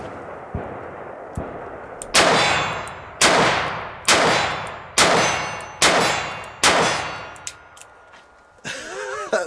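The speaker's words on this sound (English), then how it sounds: "I'm gonna go ahead and shoot some more." Taurus 856 revolver firing 158-grain Fiocchi rounds at steel targets about 22 yards away, five loud, sharp shots roughly one second apart, each followed by a ringing metallic clang and decaying echo.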